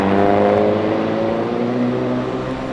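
A rally car pulls hard on a gravel stage in Coromandel, its engine note loud and close, holding a strong drone that sags slightly as it powers away.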